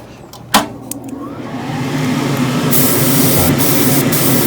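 After a sharp click, an airbrush loaded with fluorescent yellow paint starts a steady, close airy hiss that builds and holds for several seconds.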